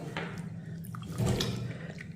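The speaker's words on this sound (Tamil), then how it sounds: "இதை நல்லா தண்ணி ஊற்றி நல்லா கழுவிக்கிடுவோம்." Millet grains being washed with water in a bowl, soft sloshing and trickling splashes with a louder swirl in the middle, close and fairly quiet, no speech.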